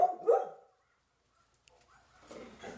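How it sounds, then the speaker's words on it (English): Dogs barking outside during a leash-training session with a shy Shar-Pei: a couple of fairly loud barks at the start, then quiet, followed by faint distant yips and rustling near the end. "some dogs are barking outside"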